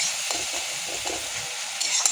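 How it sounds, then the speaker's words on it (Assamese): Leafy greens fry in a hot pan with a steady sizzling, crackling hiss, while occasional soft scrapes of stirring come through. "অকণমান ধৰি ভাজিম"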